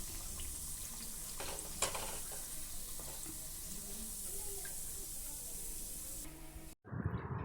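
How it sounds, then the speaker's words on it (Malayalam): Parippu vada, lentil fritters, frying in hot oil, giving a steady close sizzling hiss with faint clinks and stirring, ending in a short scraping clatter as they are lifted out. "ഇപ്പം ഈ വട നന്നായിട്ട് മൂത്തിട്ടുണ്ട്"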